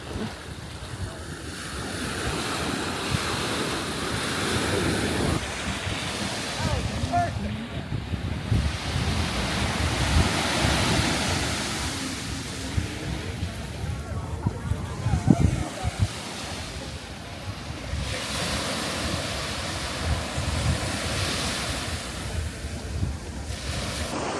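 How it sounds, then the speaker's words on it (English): Waves wash continuously onto a Caribbean beach in Anguilla, a loud, steady surf roar mixed with gusty wind buffeting the microphone throughout. "the beach was breathtaking"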